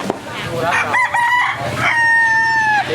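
A rooster crows loudly and close at a busy Lao market in Champasak, its long drawn-out call rising over crowd chatter and nearby voices.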